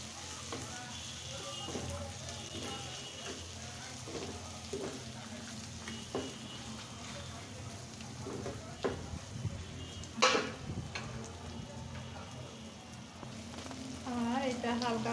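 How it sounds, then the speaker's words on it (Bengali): Vegetables frying in a pan with turmeric and salt, a soft continuous sizzle with occasional stirring scrapes and clinks, while a voice talks faintly in the background. "এখন আমি খুব সুন্দর করে এটা ফ্রাই করে নেব"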